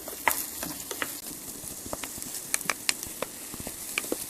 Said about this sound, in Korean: 여기다 이제 양송이 버섯을 넣을게요. 또 볶아주세요.